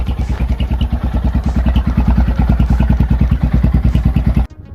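Royal Enfield Himalayan single-cylinder motorcycle running close up, a loud, fast, regular thumping beat with mechanical clatter that cuts off abruptly at the end.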